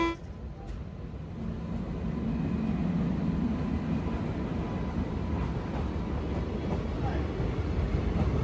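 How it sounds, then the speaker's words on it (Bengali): A train rumbles past a closed railway gate at Suri railway station, a heavy, continuous roar that builds after the first seconds and holds steady, with a brief horn toot near the start. "সিউড়ি রেল স্টেশনের যে রেলগেট বন্ধ, ট্রেন আসছে।"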